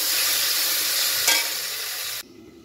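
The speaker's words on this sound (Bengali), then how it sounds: "টমেটোগুলোকে ওর মধ্যে দিয়ে একসঙ্গে ভেজে নেব" Potatoes and half-ripe tomatoes frying together in a pan, a steady bright sizzle with a brief stirring burst, close and alone, then cutting off abruptly near the end.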